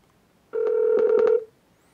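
A phone call ringing through a Pioneer DEH-X4700BT car stereo: a single steady electronic ring tone lasting about a second, clear and alone in a quiet car.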